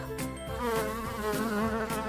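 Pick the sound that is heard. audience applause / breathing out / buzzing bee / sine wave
buzzing bee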